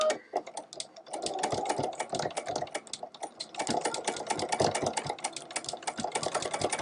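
A sewing machine runs in a fast, rattling clatter while stitching over a high-stress spot on a tote bag, close by, pausing briefly before picking up again with even, rapid needle strokes.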